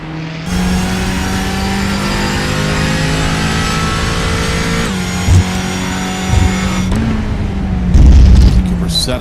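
McLaren GT4 race car in iRacing at Circuit of the Americas, its engine droning steadily at high revs with a gear change midway and a brief lift near the end, loud and continuous under commentary.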